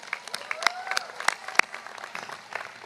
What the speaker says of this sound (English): Graduates, let's give them a round of applause.